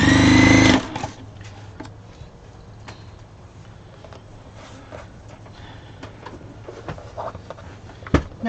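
A sewing machine stitches fabric scraps in a short, loud burst of running that stops abruptly, followed by quiet clicks and handling noises from the machine and fabric.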